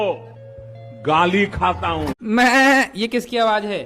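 A voice imitates a goat's bleat, a wavering quavering cry that rises over other speech in a comic Hindi exchange about animal sounds.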